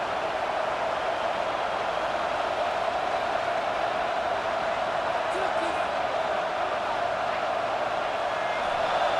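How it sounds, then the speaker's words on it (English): Steady, dense roar of a packed stadium crowd in the College Football 26 video game, a constant wash of cheering and noise rocking the place throughout with no break or rise. "right in the teeth of this noise. And with this place rocking, the crowd forces a false start"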